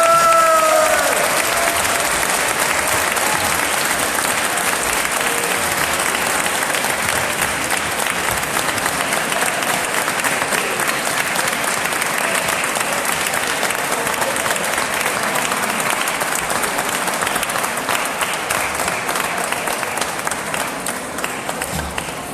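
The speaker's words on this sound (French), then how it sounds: "on peut l'applaudir." A room audience gives sustained applause for Geneviève at her retirement, a dense steady wash of clapping lasting over twenty seconds with light crowd murmur, fading slightly at the end.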